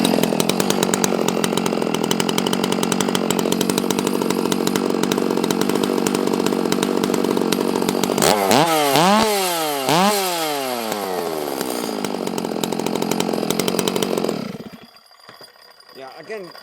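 A Stihl MS660 chainsaw, just restarted, runs at a loud, close, steady high rev, then its pitch dips and swoops as the throttle is eased and blipped before it drops back to a rough idle.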